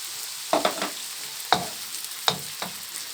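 Liquid from pickled garlic poured into a hot pan, giving a few sharp sizzling bursts and stirring scrapes close by over a steady frying hiss, with no talking.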